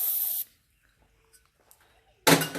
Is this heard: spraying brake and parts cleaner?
yes